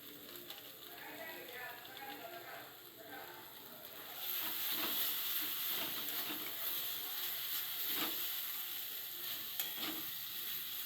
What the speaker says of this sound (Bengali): মশলাটা যাতে একটু পুড়ে না যায় সেই জন্য একটু অল্প জল দিয়ে মশলাটাকে ভালো করে কষাবো